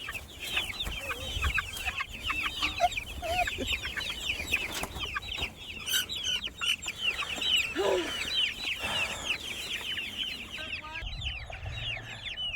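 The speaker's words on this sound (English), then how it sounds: "Since it was a nice afternoon, Mandy let the laying hens out to get in our lawn and tear that up." Laying hens out on a home lawn cluck and chatter continuously in a busy, overlapping chorus close by, with occasional sharper squawks.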